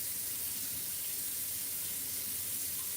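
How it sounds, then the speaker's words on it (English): Water is poured steadily into a cooking pot in a home kitchen, a continuous soft hissing splash lasting the full few seconds with no talk over it. "we add our water in"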